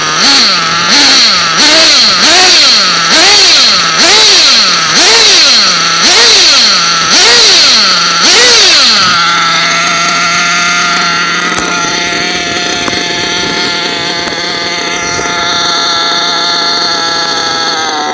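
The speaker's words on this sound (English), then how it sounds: "Just like an Italian motor, baby. Fires right up." A small engine, apparently a model engine with idle set from a controller, revs in a rising-and-falling cycle several times, then settles into a steady, loud, buzzing idle for the rest of the clip with no talk.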